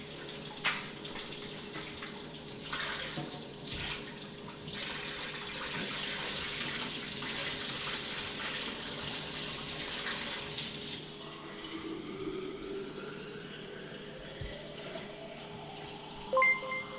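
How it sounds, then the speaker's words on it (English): A kitchen water tap runs steadily to refill a water container, a continuous broadband gush that drops off near the end and leaves a quieter trickle behind, with a few small clinks. "I'm just getting a water refill."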